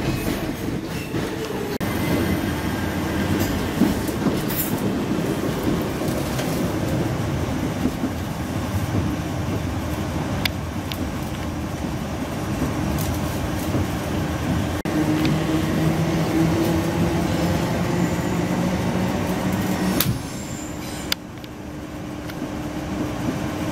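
A Class 317 electric multiple unit, unit 317503 in Greater Anglia livery, runs on London Overground out of Liverpool Street, with steady loud rolling rumble, rail clatter and motor hum throughout and no talking.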